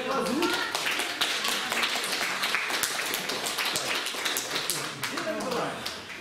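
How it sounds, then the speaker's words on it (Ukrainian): Applause from an audience at a village community meeting in Yareski, scattered claps rising into a sustained patter of hands, mixed with overlapping talk and murmuring voices in a large room. "Я радий, що ви аплодуєте своєму виступу"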